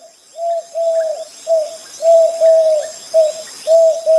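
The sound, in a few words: birds chirping in a cartoon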